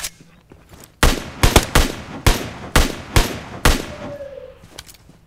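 Gunfire in the PUBG Mobile battle-royale game: a rapid string of about seven loud, close shots at irregular spacing, each a sharp crack with a short tail, followed by faint distant pops near the end.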